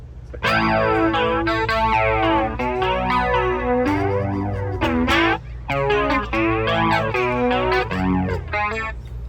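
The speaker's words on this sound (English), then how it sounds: "the flanger is the electric mistress" Electric guitar chords through an Electric Mistress-style flanger on a Fender Tone Master Pro, a sweeping, whooshing jet-like swirl rising and falling repeatedly, played loud and up close with no talking.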